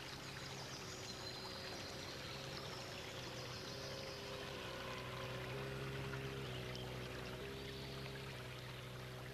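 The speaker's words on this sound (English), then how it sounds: "No sound, just the swirl of water and the eerie birdsong." Water swirls and gurgles along a stream in the West Country countryside, a soft continuous rushing murmur with no voices, heard fairly quietly at a steady level.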